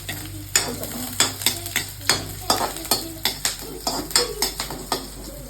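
Onions frying in oil in a pan, sizzling under frequent sharp scrapes and clinks of a metal spoon stirring against the pan in a quick, uneven rhythm, close and with no talk.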